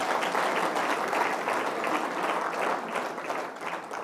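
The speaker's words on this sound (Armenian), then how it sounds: "կարող ենք մի հատ բուռն ծափարել Տիրոջը սրա համար" A church congregation breaks into sustained, enthusiastic applause, a dense, even wash of many hands clapping for several seconds, filling the hall with no speech over it.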